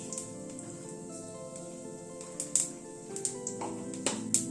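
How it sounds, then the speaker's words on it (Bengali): Garlic, nigella seeds and a dried red chilli fry in hot oil with a steady soft sizzle. Brighter crackles and pops burst through near the end, under faint kitchen background. "রসুন, কালো জিরে, শুকনো লঙ্কাটাকে একটুখানি হালকা করে ভেজে নিচ্ছি"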